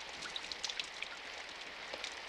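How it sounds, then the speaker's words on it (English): Steady rain falls in the visual novel game Symphonic Rain, a soft continuous hiss with scattered light droplet taps on surfaces, even and unbroken, with no voices. "And then, as always, I fell asleep while listening to the rain."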